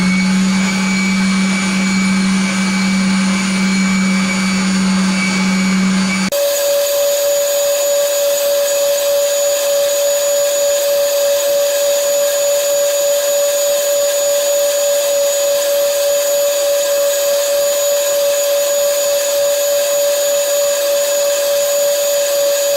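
A large, fast sanding machine shaping wooden parts for jointed dolls, a steady loud motor whine that shifts pitch partway through and then holds an even drone to the end.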